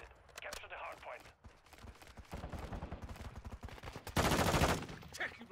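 Automatic gunfire crackles through a Call of Duty Modern Warfare II hardpoint match with a TR-76 Geist rifle, rapid bursts building to a loud, dense volley near the end, with a voice speaking over parts of it.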